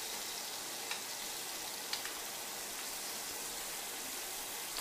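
Lamb chops with garlic and rosemary sizzle steadily in a cast iron skillet, a constant bright crackling hiss with a few small pops, close and even throughout with no talk.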